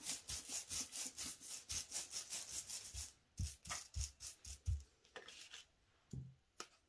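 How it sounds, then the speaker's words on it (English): A paint-laden brush is wiped back and forth across a paper page in quick, rhythmic scrubbing strokes, loud and close, that slow into a few separate swipes toward the end. "I'm going to take as much of that paint off my brush as I can, just by wiping it on the page"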